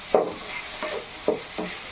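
Kulekhara greens frying with potato in a pan are stirred with a few spaced scraping strokes over a soft steady sizzle, close and moderately loud, with no voices.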